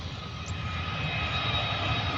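A Cebu Pacific jet plane takes off with a steady, loud engine roar and broad rushing noise, holding constant across the moment with no speech.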